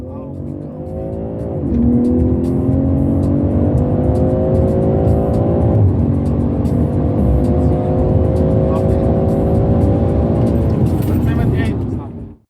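Race cars racing, engines droning loud and sustained for about ten seconds with rising and falling pitch as they accelerate, then cutting off abruptly at the end.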